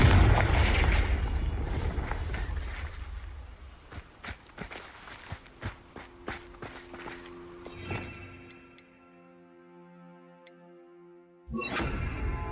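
A Confringo explosive spell cast in the Hogwarts Legacy video game opens with a loud blast and rumble, then fades into scattered ticks and crackles before a burst of noise returns near the end.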